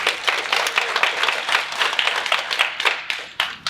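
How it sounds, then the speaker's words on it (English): An audience at a panel event applauds warmly, a crowd of hands clapping in a lively, uneven patter that holds steady and tapers slightly near the end. "Please give an applause for Sue."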